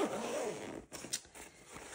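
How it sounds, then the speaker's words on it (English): A zipper on a pencil case being pulled open in one quick, close, rasping run, with a short tug near the end. "I like the pencil cases like I just showed you, where each you have individual zippers"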